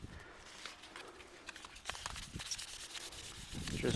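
Hand-sanding a rusty steel wheel with 3000-grit paper, a steady close scratchy rubbing with short repeated strokes that grows a little louder toward the end, with no voices.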